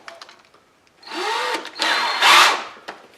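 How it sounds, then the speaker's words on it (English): A small rivet for a Dinky or Corgi model car spins in a power drill as a lip is formed on it, giving a close, loud whirring grind in several bursts between brief quieter gaps. "put it in the drill, get it out a little bit so that I can make a lip on it"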